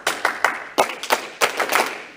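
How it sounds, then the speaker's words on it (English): Several people clap back a rhythm in a fitness session for older adults, sharp clustered claps in quick groups with brief pauses between, fairly loud and close. "I will clap like this. You all will repeat it back to me."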